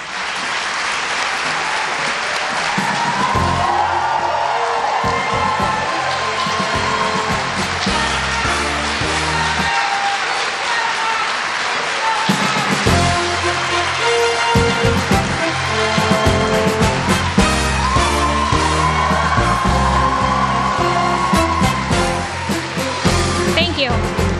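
Loud, sustained applause and cheering from a debate audience as candidates for Washington's 5th Congressional District walk on stage, filling the whole stretch with dense clapping and crowd noise.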